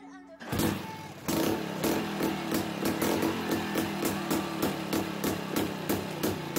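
A vintage Hispano Villiers 125cc motorcycle engine idles with a steady, rapid two-stroke putter, fairly near and even, after a brief quieter start.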